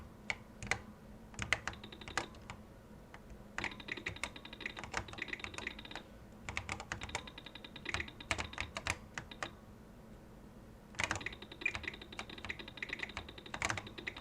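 Apple IIe keyboard keys pressed repeatedly while a game is played, bursts of rapid clicking and clacking alternating with short pauses, close and fairly quiet, no talking.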